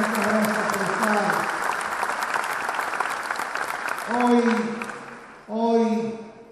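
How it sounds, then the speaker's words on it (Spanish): Applause from an audience at a solidarity event during Alicia Kirchner's visit to San Juan, Argentina, a dense continuous clapping under someone speaking over a microphone, his voice rising in short bursts toward the end. "también un aplauso para ellas"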